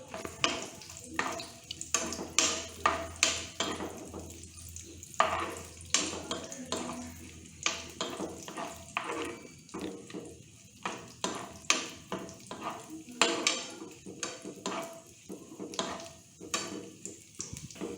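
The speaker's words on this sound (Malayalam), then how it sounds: "നമ്മുടെ നെയ് മെൽറ്റായി തുടങ്ങിയിട്ടുണ്ട് എനിക്കിതിലോട്ട് കുറച്ച് ക്യാഷിനട്ട് ചോപ്പ് ചെയ്തത് ചേർത്ത് കൊടുക്കാം" Chopped cashews and raisins frying in melted ghee in a pan, with a soft continuous sizzle broken by repeated scraping and stirring strokes and light clinks of a spoon against the pan.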